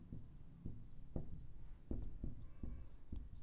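Chalk tapping and scraping on a board during a lecture, a series of sharp rhythmic strokes roughly every half second, close and fairly clear over a low room hum, with no one talking.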